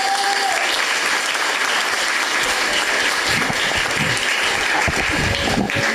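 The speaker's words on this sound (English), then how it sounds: "can we please have a round of applause for everything our batch has achieved in these 2 years?" A hall full of people at a Year 11 school prize giving ceremony breaks into a loud, sustained round of applause, steady and dense throughout with faint crowd noise mixed in.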